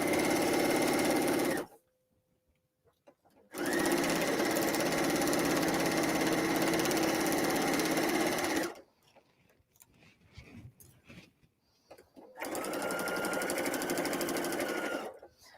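A sewing machine stitches paper-pieced fabric for a kimono tea cozy, running in two loud steady bursts with a pause between, then a quieter stretch of handling before a third run.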